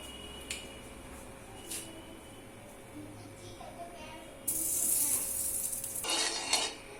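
Ghee hits a hot kadai for basanti pulao and sizzles with a bright hiss that starts abruptly midway, swells again briefly, following a few quiet clinks of utensils.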